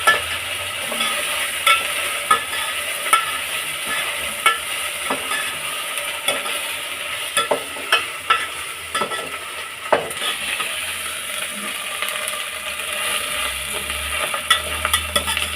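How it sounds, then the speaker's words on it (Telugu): Ginger-garlic paste being stir-fried in a pan for mushroom pulao, a steady close sizzle with frequent scrapes and taps of the spoon against the pan throughout. "ఇప్పుడు పచ్చి వాసన పోయేదాకా ఫ్రై చేయాలి"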